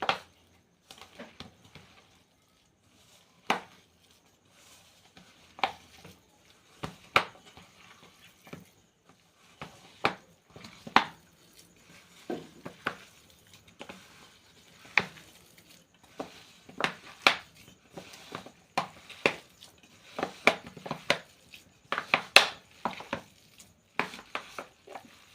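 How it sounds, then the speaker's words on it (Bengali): Food mixed and squeezed thoroughly by hand, giving soft irregular squelching pats and slaps that start sparse and grow denser, close and fairly quiet, with no talking. "এবার আমি ভালো করে মেখে নেব।"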